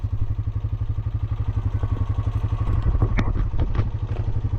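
A Honda Rancher 420 ATV engine running in a low gear out of four-wheel drive, a loud close rhythmic chug that swells and clatters as it pulls off for a wheelie on a slight hill.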